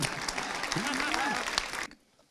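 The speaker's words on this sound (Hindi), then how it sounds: "तालियां बजाइए" An audience at a Hindi poetry recital (kavi sammelan) claps in a dense, steady wash while a voice speaks over it. The applause cuts off abruptly near the end.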